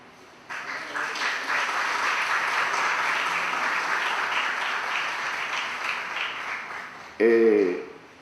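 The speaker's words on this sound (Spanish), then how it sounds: "Y eso se aplaude" Theatre audience breaks into applause after a tribute, a steady wash of clapping lasting several seconds before a voice cuts in at the end.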